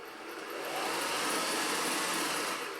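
A vintage sewing machine runs off its foot pedal with a steady, fairly loud whirring motor hum that swells up after the start and holds evenly throughout, with no talking.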